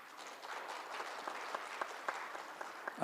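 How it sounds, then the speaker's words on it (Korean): Soft, distant audience applause welcoming a Japanese councillor to a panel session at the Asia-Pacific Young Leaders Forum in Jeju, a light patter of claps that carries on without speech. "박수로 환영해 주십시오"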